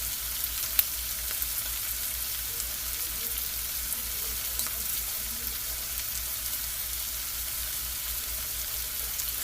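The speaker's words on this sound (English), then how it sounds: "So you kind of fry it up a little bit." Flour frying in a skillet for corn chowder makes a steady, even sizzle that stays constant throughout, with no voices heard.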